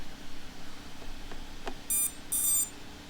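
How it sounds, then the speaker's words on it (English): Two short bursts of high electronic beeping near the end, the second longer, over quiet background with a faint click before. "Oh yeah, inactivity beeping."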